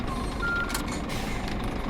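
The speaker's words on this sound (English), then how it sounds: "So we'll just reverse our truck into the bay." A steady electronic reversing beep sounds from a truck backing into a loading bay in the video game On The Road Truck Simulator, a few short tones over a constant engine drone, without talk.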